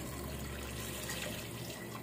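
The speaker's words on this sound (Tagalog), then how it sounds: "Tapos maglalagay tayo ng tubig." Water pours steadily into a cooking pot of boiled beef and ginger, a faint, continuous splashing gush with no break.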